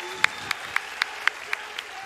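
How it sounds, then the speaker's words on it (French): Sparse, evenly spaced claps ring out, roughly four per second, from a small audience at an esports tournament, each clap sharp and distinct over a faint background hum. "On applaudit Francis, s'il vous plaît."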